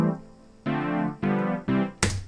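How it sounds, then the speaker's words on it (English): A thick, classic 80s-style synth pad sustains in several held chord swells, each starting abruptly and ringing steadily before the next, ending on a brighter burst; no voices. "Kind of classic 80s pad."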